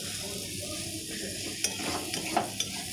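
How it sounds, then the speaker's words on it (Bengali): Spice masala is stir-fried in oil in a pan until the oil separates, a continuous soft sizzle with a few scraping clinks of the spoon against the pan, close and alone. "এইভাবে ভালো করে মশলাটা এরকম করে কষিয়ে নিতে হবে।"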